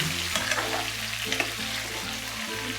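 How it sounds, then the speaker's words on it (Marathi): Eggplants sauté in hot oil for stuffed eggplant with dried fish, making a close, continuous frying crackle with light stirring scrapes over a low steady background hum and no speech. "आता आपण सगळी वांगी या तेलामध्ये घालून घेऊया आणि ही वांगी तेलामध्ये पहिले परतवून घ्यायची"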